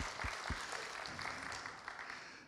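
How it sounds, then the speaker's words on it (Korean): A church congregation at a Korean Wednesday prayer service applauds a visiting missionary couple back from Burkina Faso, a steady wash of clapping that lingers for a couple of seconds and slowly fades. "우리 박수 한번"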